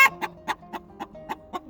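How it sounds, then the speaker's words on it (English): Roosting hens in a barn chicken coop give a steady series of about seven clear clucks, evenly spaced and close by, with no other sound between them. "And we got 2 roosting hens."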